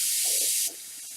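An airbrush spraying cleaner through gives a short, bright hiss of about half a second that cuts off sharply, close and fairly quiet.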